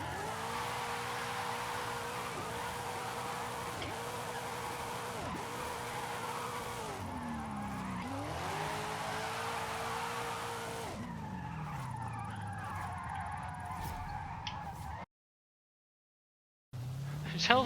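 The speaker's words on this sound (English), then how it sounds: "this is actually drifting pretty well." A car drifting, engine revving in repeated rising pulls while tires squeal and scrub loudly and continuously, then the engine note drops before a brief cutout and a final burst of noise.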